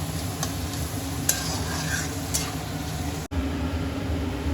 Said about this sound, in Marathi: त्या पण भाज्या अशा तेलामध्ये भाजून घेऊया म्हणजे शिजवायच्या चांगल्या